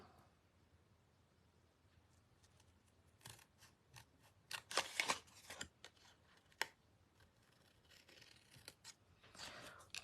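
Snips cutting paper rectangles along folded score lines at a craft table, a run of crisp snipping strokes of varied loudness, some in quick clusters, with no talk over them.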